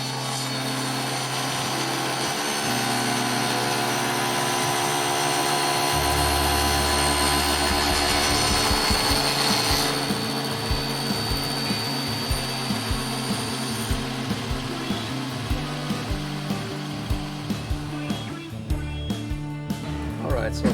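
A table saw fitted with a miter gauge runs steadily and loud, its whine dipping and pulsing as the blade bites through a wooden dowel, with the cut thumping in a rough rhythm over the second half.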